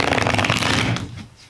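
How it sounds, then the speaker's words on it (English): Tarot cards are shuffled rapidly and loudly up close, a dense riffling burst that stops abruptly and fades out. "so the shuffling might be a little loud"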